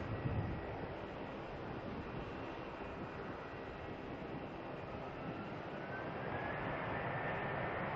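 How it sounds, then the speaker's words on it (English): A Jetstar airliner departs Melbourne Airport, its jet engines a steady, distant broadband roar that holds even throughout and swells slightly louder toward the end, with no voices. "Another Jetstar heading on out."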